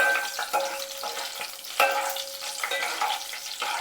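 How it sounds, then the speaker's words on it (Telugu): Tempering seeds and dried red chillies fry in hot oil for a brinjal curry, giving a close, constant sizzle dotted with sharp crackles and pops. "అండ్ ఫ్రై చేసుకోవాలి."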